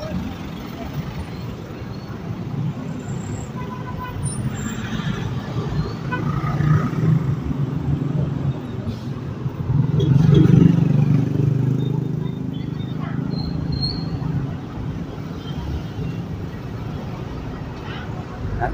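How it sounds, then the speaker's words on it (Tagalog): Steady highway traffic rumbles through Gapan City center in Nueva Ecija, with passing vehicles swelling louder around the middle, heard nearby and continuously under an outdoor wash of noise. "ito ang pinaka highway po o bukana kung tawagin o sentro ng Gapan"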